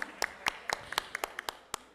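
Scattered applause for a group of women entrepreneurs in a legislative chamber session, a few sparse hand claps, fairly close but thin, from only a handful of people.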